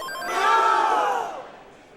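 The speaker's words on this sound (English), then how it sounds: "Crowd definitely getting into it and backing their favorite players." A live crowd roars and cheers at the Classic Tetris World Championship grand finals, swelling quickly to a loud peak and then fading over about two seconds, with no talk over it.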